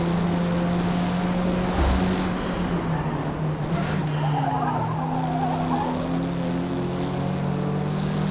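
A race car in Forza Motorsport 2023 slides with squealing tires over a steady engine drone, the pitch bending as it skids, loud and close with no talk.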